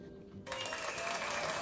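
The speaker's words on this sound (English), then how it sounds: "Why am I clapping? I've got a button for this." A canned applause sound effect played from a button swells suddenly into a full crowd clapping and cheering, loud and sustained after a brief quieter lead-in.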